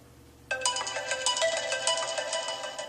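An iPhone 7 that has been soaked in Fanta rings its ringtone at maximum volume: a bright, steady electronic melody that starts abruptly and carries on loud and close, with no talking over it.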